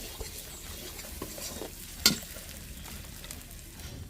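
Spices for ghugni, with coriander powder, fry in goat fat while being stirred: a soft continuous sizzle under repeated scraping strokes, with one sharp metallic clink midway.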